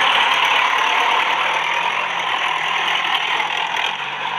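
A Swaraj tractor engine idles nearby after its finishing work, a loud, steady mechanical hum with a dense even rattle that continues unbroken throughout, with no voices.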